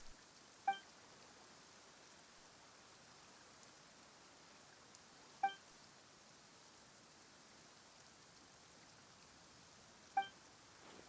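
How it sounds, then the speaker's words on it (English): Sudden rain falls in the Genshin Impact region of Fontaine as a faint, steady patter, with three short, soft chimes spaced a few seconds apart. "Why is it raining all of a sudden?"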